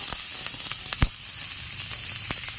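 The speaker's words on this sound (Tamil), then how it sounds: "கொஞ்சம் வெங்காயம் நல்லா வதங்குற அளவுக்கு கிளறி விடணும்" Onion frying with cumin and cinnamon in a pan for chicken tawa fry, giving a steady close sizzle with a few sharp spatula clicks and no talking.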